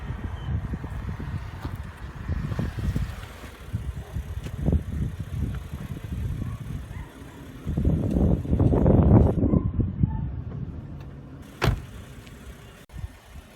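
A BMW 535i engine idling after a VANOS cleaning and oil change, a steady close engine drone with surges and rumbling swells, plus a sharp knock or clunk near the end.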